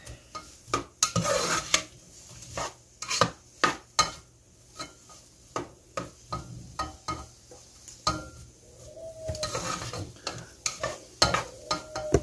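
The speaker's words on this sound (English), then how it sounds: "And I'm going to just cook them up until they're translucent." Diced vegetables cooking in a pan for a haddock casserole, with repeated metal stirring scrapes and utensil clinks over a faint sizzle, close and uneven in rhythm, with no talking.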